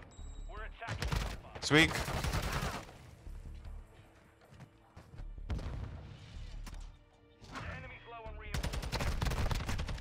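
Bursts of automatic gunfire during a ranked Call of Duty Modern Warfare 2 multiplayer match, loud rapid volleys in several clusters with players talking over and between the shots.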